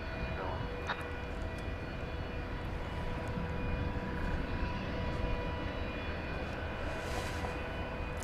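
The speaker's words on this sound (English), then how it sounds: "I really would love to hear the endless drone of an air starter right about now." Air starter unit hooked to an Airbus A300 at DFW airport, giving a steady, loud, continuous drone with a constant tonal hum throughout and a few brief higher whines over the top.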